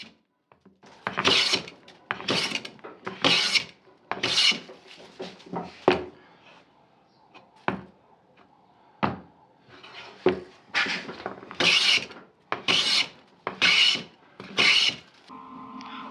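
A hand plane is pushed along wooden boards to true their edges for glue-up, giving a steady series of crisp, scraping strokes, about a dozen close passes in an even rhythm with brief pauses between them.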